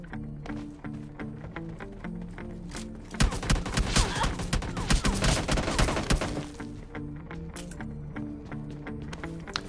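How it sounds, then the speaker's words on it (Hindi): In the PUBG Lite video game, teammates lay down cover fire in a dense, sustained burst of gunfire lasting about three seconds, loud over a steady tonal game background with no talking. "इसके पीछे से टीममेट जो कवर फायर देते हैं, और देखो कितना ही गंदा कवर फायर देते हैं"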